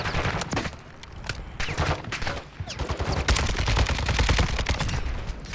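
Rapid gunfire from armor-piercing rounds punching through a wall in the DMZ mode of a Call of Duty game, dense overlapping bursts close and loud with some machine-gun-like rattle, building in intensity toward the end.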